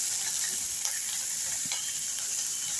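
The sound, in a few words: shallots sautéing in oil for sambar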